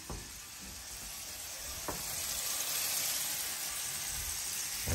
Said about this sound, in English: We're going to throw these bad boys in a skillet